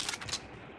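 Automatic gunfire from a 100-bullet gun in a video game, a quick burst of about three sharp shots over less than half a second, followed by a fading tail.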